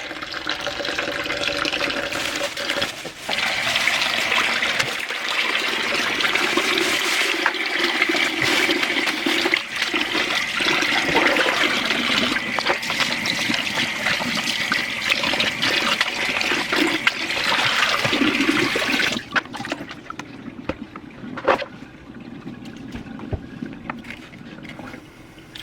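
Tap water runs steadily into a sink as hands are washed before seasoning food, a close, continuous rush with splashing and trickling that cuts off near the end, leaving faint drips.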